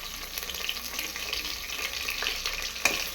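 Onions and green chillies sautéing in a pan for mushroom biryani give off a faint, steady sizzle with a soft watery hiss and a few light scrapes. A sharper click sounds near the end, and no one speaks.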